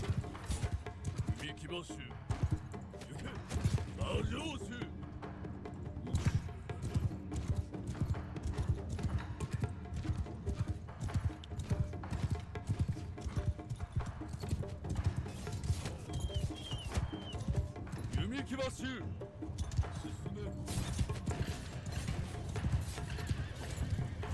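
Many cavalry horse hooves clatter in a dense, continuous rhythm in the video game Shokuho, with occasional whinnies and faint voices mixed into the busy battle-like din.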